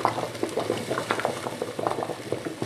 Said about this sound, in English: I'm just going to cover this with water.